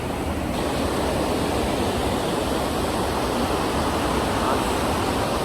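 Strong current of water rushing over the Wawa Dam in Rodriguez, Rizal, a loud, steady broadband roar that fills the scene without a break from start to finish.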